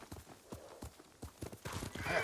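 Horse hooves clip-clop in a video game in a steady, even rhythm, fairly quiet, with a brief whinny-like rise near the end.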